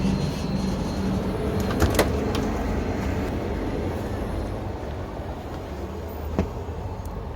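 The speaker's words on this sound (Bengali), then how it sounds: "খুব স্লো চলছে ট্রেন" Passenger train running slowly on a journey toward Kashmir, a steady low rumble of wheels and carriage noise heard from inside the coach, with a couple of brief clanks and no talking.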